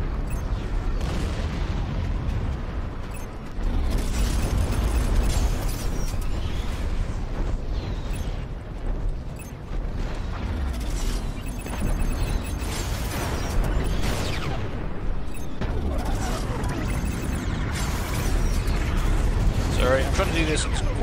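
Explosions from the space combat video game Strike Suit Zero boom and rumble in heavy, overlapping bursts through a dense, loud mix of weapon fire and mechanical noise, with talk over the action.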